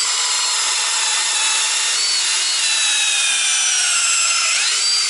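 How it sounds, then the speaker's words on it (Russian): A power drill bores a new hole in wood while building a tree house. The whine is loud, close and sustained, with the pitch drifting slowly as the bit cuts in, and no speech. "Погнали сверлить новое отверстие."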